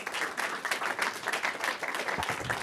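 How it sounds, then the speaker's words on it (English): An audience at a tech gathering in New York City gives a short, moderately loud burst of dense applause with no voices over it. "let's give a huge round of applause for Veris AI"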